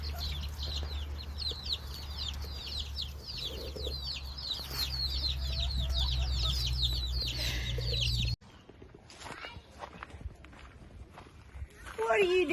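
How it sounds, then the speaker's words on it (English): Plump, healthy farm chickens cluck and chirp in a busy, repeated chorus over a low hum, with footsteps and a person talking nearby; the scene shifts partway to quieter outdoor ambience. "that is some healthy chickens right there"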